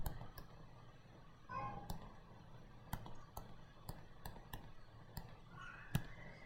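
Quiet, irregular clicking of calculator keys being pressed one at a time, slow and spaced out, with soft background hum.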